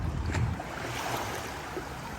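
Sea waves wash onto a clean beach with a soft, continuous rushing wash and faint wind, moderately close and steady, with no one talking.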